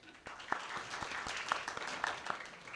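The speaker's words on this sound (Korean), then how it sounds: "박수 부탁합니다." Faint audience applause at a medical forum on stem cell and gene therapy patents: scattered claps from a seated crowd, quiet and somewhat distant, with a few sharper individual claps standing out.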